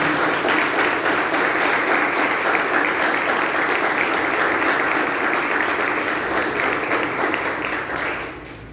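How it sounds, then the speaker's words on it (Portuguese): A church congregation applauds in praise, a dense, steady wash of clapping that fills the space loudly and evenly before tapering slightly at the end. "Você pode aplaudir o Senhor por essa palavra?"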